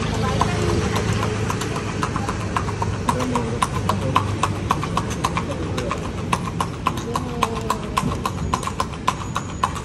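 Hooves of a young horse pulling a kalesa carriage clip-clop in a steady, quick rhythm through Intramuros streets, with traffic and engine noise behind and people chatting over it.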